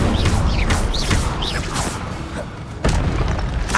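A fire spell cast in the Hogwarts Legacy video game during a fight with guards, heard as a series of booming, whooshing magical bursts with a heavy crashing impact near the end, loud and close.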